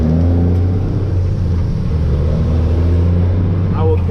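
A dump truck engine rumbles steadily at close range with a deep, constant low drone while the driver searches for a gear, with faint clunks toward the end.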